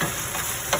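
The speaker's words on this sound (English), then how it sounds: "Saute it up." Ginger sautéing in a pan for a beef and broccoli stir-fry gives a brief, steady sizzle, with a slightly louder stir near the end.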